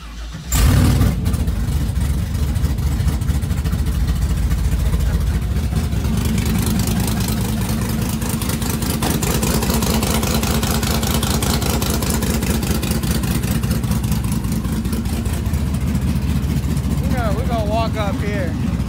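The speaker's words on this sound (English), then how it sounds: "let's see if this is a straight up cold start. It's going to be loud. It's going to idle high for a little bit." Chevrolet C10 truck engine cold-starting: a sharp crank catch, then a loud, rowdy high idle rumbling steadily close by, with voices talking over it.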